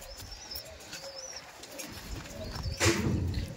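Madrasi pigeons coo in soft, low rolling calls nearby, with a few thin chirps and a short rustle near the end.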